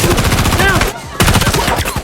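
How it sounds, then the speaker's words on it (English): Loud, rapid rifle gunfire erupts during a SWAT team massacre in a Mission: Impossible movie scene, dense automatic bursts with a brief gap before the shooting resumes. "Amid the gunfire, Ethan grabbed Grace and tried to escape to"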